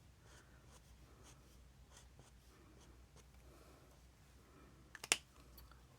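Pencil crayons scratching softly over tissue paper in an art journal, faint intermittent strokes at close range, ending in a few sharp clicking taps.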